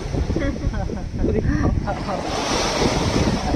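Ocean waves wash onto a beach at Pangkor Island, Malaysia, a loud continuous roar of surf mixed with wind buffeting the microphone. Voices talk faintly underneath.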